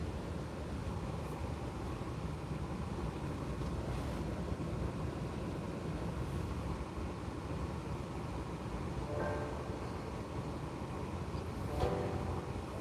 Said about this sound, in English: But as for now, we in the hood, so there's a train.